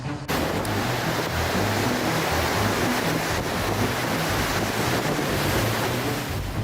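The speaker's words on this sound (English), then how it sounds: "Large ice blocks slowly drifted along a river in Ukraine, colliding with each other to create a cold, but oddly relaxing sound" Large ice blocks drift along a river in Ukraine, giving a continuous broad rushing wash, with dull grinding and knocking of colliding ice mixed with wind noise on the microphone.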